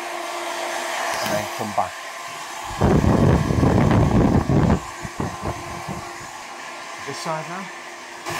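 A hair dryer blowing loudly and close as a man's short hair is dried up to one side, its roar coming in bursts between spoken instructions.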